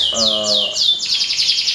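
A canary sings close by in quick, bright descending chirps that run into a fast, continuous trill, with a faint voice heard briefly at the start.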